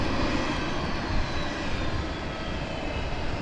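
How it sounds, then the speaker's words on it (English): Eurofighter Typhoon military jets at Southend Airport, their engines winding down in a loud, steady roar of broadband engine noise with no break across the whole stretch. "there's the shutdown of the Typhoons."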